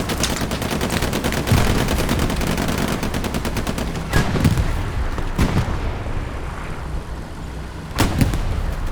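Artillery fire and heavy gunfire from a World War II game battle on Utah Beach, a dense, loud, continuous barrage with several sharp booming impacts standing out near the middle and end.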